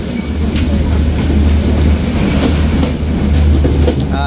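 The Sagardari Express intercity train from Rajshahi to Khulna runs on the rails near a Bangladeshi station, a loud close rumble with a rhythmic clickety-clack of wheels over rail joints throughout.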